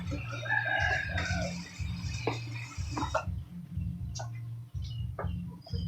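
Rooster crowing at a family's rural home, several drawn-out crows close by alongside hens clucking and a steady low hum.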